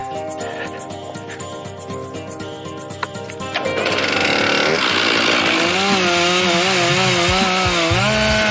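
A chainsaw cutting a cedar tree, engine idling unevenly at first, then revving hard into a loud sustained whine with pitch shifts as the chain bites into the wood, close and dominant.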